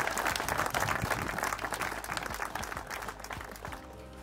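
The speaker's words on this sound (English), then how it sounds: "Can we have a big round of applause" Crowd applause at a prize-giving for the winner of the Drennan Winter Pole Championship, a fishing competition: steady, dense clapping from a sizeable audience that holds loud for about four seconds, then thins slightly toward the end.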